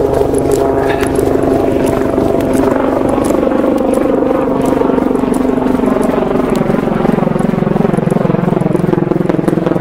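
A Coast Guard helicopter thrums overhead with a steady, loud rotor drone that holds evenly throughout, with no other sounds standing out.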